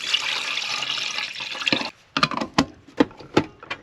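Water pours into a coffee machine at a winter camp in a steady, close splashing stream that cuts off, followed by several sharp drips and clunks spaced apart.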